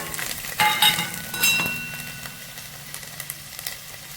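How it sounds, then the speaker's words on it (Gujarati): Cumin seeds, asafoetida and garlic cloves sizzle in hot oil for a Gujarati home-style dish, a steady close crackle with a few louder bursts early on that then settles to a softer hiss. "હવે તેલ, એમાં થોડુંક જીરું નાખી દો અને હિંગ અને લસણની કળી।"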